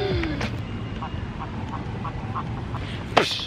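Ducks in London quack softly in a short, regular series over a steady outdoor rumble, with a brief louder call near the end.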